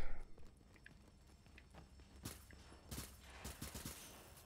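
In The Division, a few scattered bursts of gunfire crack out, fairly faint and brief, against a quiet, low background.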